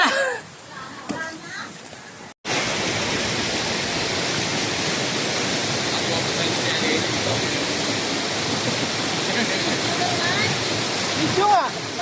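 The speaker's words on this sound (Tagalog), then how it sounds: "Malakas ang agos." A strong river current rushes in a loud, dense, unbroken roar of water after a brief quieter opening with a voice and a sharp cut, continuing steadily to the end.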